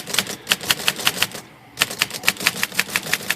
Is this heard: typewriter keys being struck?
yes